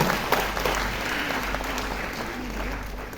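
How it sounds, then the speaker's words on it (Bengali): A crowd at a Bengali film event bursts into steady applause, many hands clapping loudly and continuously for a few seconds with no speech on top. "আমার মনে হয় নিজেদের জন্য একটা হাততালি দিন আপনারা"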